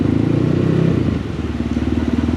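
Dirt bike on a legal wheelie spot, engine running close and loud with a rough idle pulse, a brief throttle blip swelling then settling back to idle.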